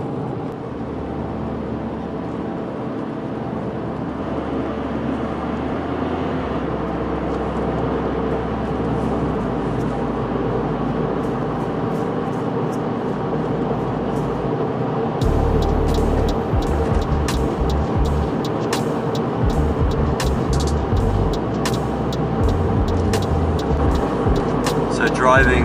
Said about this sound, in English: Driving on an average New Zealand road, we use really rough top on our road